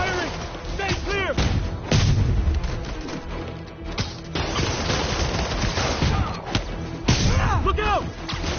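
Artillery fire in the Spider-Man game on PS4, a run of loud booming blasts and crackling gunfire, close and dense, with game voices shouting over the barrage.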